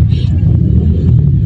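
A low continuous rumble of cars stuck in a bumper-to-bumper traffic jam, heard close and heavy with no break.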